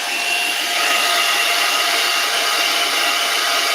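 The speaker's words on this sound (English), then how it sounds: "So only ever use a hairdryer on a cool setting." A hair dryer on its cool setting blows steadily and loudly at close range, a constant airy whoosh with no pauses or voices.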